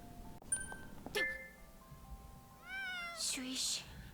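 A cat meows in Gravity Rush 2 in a drawn-out, wavering cry amid chimes and clinks, followed by short hissy bursts, all fairly quiet.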